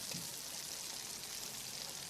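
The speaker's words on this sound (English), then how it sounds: "the sweet smell of sizzling burgers carries in the air" Burgers frying on a hot griddle at a seafront takeaway, a steady close crackling sizzle with no pauses and no voices.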